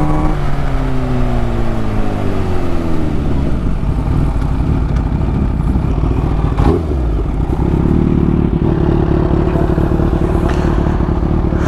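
Kawasaki Ninja H2 Carbon motorcycle engine in India, revved toward redline: loud, close roaring with pitch sweeping up and down through several rev cycles, a brief clattering blip midway, then a sustained high howl.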